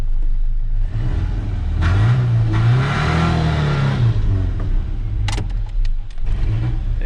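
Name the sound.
old Ford Ranger engine revving trying to move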